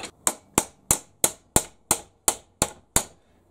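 A spanner is swung like a hammer against metal, landing ten sharp, evenly spaced strikes at a steady rhythm, each a close, loud clank with a short ring, no talking.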